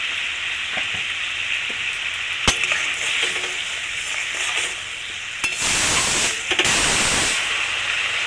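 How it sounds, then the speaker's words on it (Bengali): Begun basanti gravy bubbles and sizzles in a pan with a continuous hiss, a sharp tap partway through and a louder spitting burst near the end, with no talking. "গ্রেভি ফুটতে শুরু করে দিয়েছে।"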